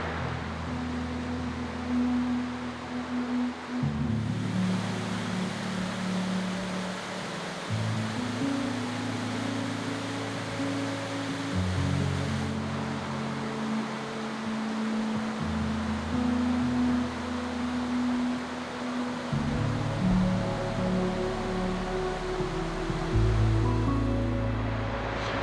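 White water rapids on the river at Aberglaslyn near Beddgelert in Eryri rush in a constant, full roar, with low music playing underneath the steady water noise.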